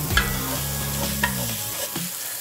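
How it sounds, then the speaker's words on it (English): Shallots frying over medium-high heat in a pan, stirred with a few scraping strokes over a steady close sizzle, with no talking. "Now we're gonna go ahead and put our shallots in first. Let's go ahead and stir these around."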